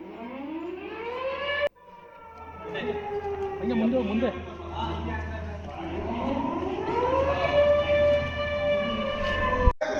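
At Halasuru lake in Bengaluru, a civil defense air raid siren rises and slowly falls in long wailing tones, sounding moderately distant over steady low rumble.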